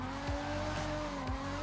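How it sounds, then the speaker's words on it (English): A sports car in Forza Horizon 5 slides on the handbrake, its tires squealing over a steady engine drone with a couple of short skid sweeps, close and fairly loud. "I have to pull the handbrake to get it to slide"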